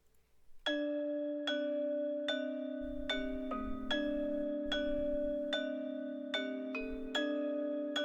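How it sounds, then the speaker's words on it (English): A mallet instrument sample in a beat, bright bell-like struck tones repeating in a melodic pattern with long ringing decays, layered over soft low thumps. "So then the other thing I added was a mallet."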